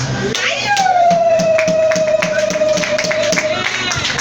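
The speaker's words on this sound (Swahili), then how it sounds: "Amenaongeza makofi tena kwa mama yetu mzuri." A church gathering applauds, with scattered hand claps under a sustained sung or spoken tone and congregation voices, the clapping loud and close and running through the whole stretch.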